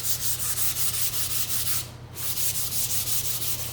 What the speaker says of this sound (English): we're gonna give it a sand